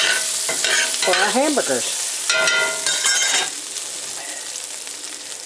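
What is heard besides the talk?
potatoes frying with onion in a pan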